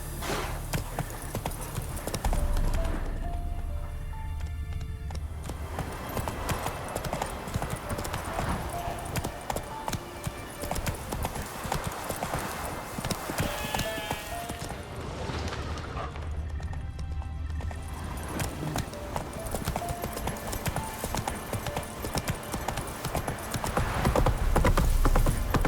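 Roach, the horse in The Witcher 3, gallops with a rapid, steady clip-clop of hooves. It sounds close and continuous throughout, with a brief whinny-like tone mixed in.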